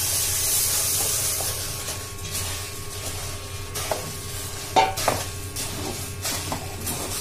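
Puffed rice being stirred into jaggery syrup in a pan for poriurundai, soft rustling and scraping with a few sharper clinks of the spoon over a low steady hum, fairly quiet.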